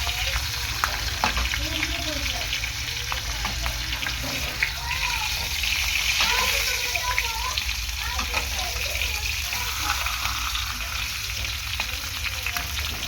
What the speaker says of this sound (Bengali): ভালো করে মাছের মাথাটাকে ভেজে নেব।